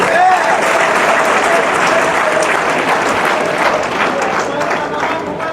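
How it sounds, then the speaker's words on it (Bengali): Sustained, loud clapping from an audience at a corporate gathering, welcoming a deputy managing director to the stage; dense applause fills the whole stretch without a break. "ম্যাডামের জন্য জোরে একটা হাততালি হবে।"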